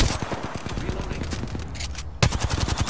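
Rapid automatic gunfire in the Apex Legends video game crackles in loud, dense bursts, breaks off briefly, then resumes just as hard, with a voice talking over the shooting.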